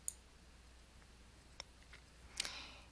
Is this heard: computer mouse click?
yes